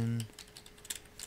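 Keystrokes on a computer keyboard, a short run of faint, quick clicks following a brief low hum at the start.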